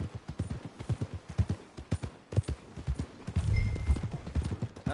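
Horse hooves clip-clop in a steady, quick rhythm in the Red Dead Redemption 2 video game, close and clear, with a brief low rumble and faint chime midway.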